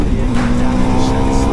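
KTM 390 Gen 3 motorcycle engine braking, a loud close rumbling exhaust with a steady low growl and slightly falling pitch, briefly mixed with a voice.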